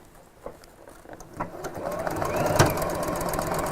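A sewing machine stitches a side seam, its rapid mechanical whirr starting faintly with a few clicks and building into steady, louder running over about two seconds, close by.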